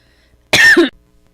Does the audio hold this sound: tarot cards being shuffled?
no